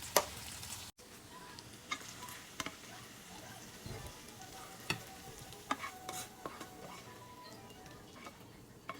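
Longganisa sisig with egg stirred in a pan, a quiet soft sizzle with scattered scraping and ticking utensil taps against the pan, close and steady throughout.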